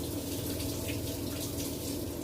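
Tap water runs steadily from a faucet during washing, with the water only barely warm; a continuous, even rushing stream fills the whole stretch without pause.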